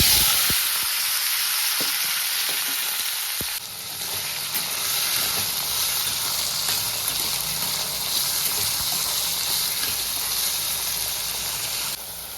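Carrots, beans and green peas fry in hot oil with bay leaf and cumin, giving a loud, steady close sizzle with a few sharp crackles early on and a brief stirring scrape partway through.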